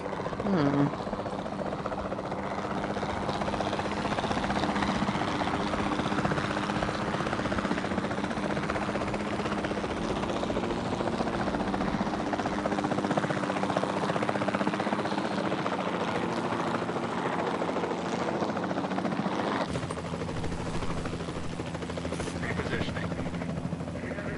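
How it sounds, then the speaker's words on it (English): A capture team helicopter in the Jurassic World Evolution 2 video game flies with a steady rotor drone and buzzing engine hum, loud and continuous, with game voices speaking over it. "Then the sensible thing is to take a capture team helicopter."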